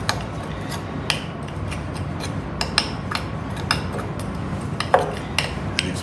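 Fake snow mixed with water is stirred in a container, producing irregular clinks and scrapes of the utensil against the sides over a constant soft background, up close.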